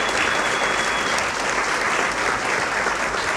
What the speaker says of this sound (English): We really need to give you a round of applause.